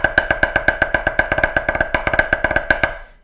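Rapid, evenly spaced drum strokes in a triplet diddle pattern, crisp and close, running for a few seconds before stopping with a short ring-out.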